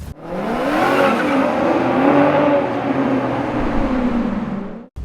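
A Maserati Quattroporte engine accelerates hard and loud, its pitch climbing smoothly with a sharp, sweet rasp, cutting off abruptly at the end.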